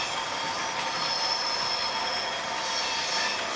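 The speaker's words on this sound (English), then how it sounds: "there you have an analogue locomotive running on what was digital track" A Class 40 model locomotive runs on a layout's track, giving a continuous close rolling hiss with high, thin wheel squeal throughout and no pauses.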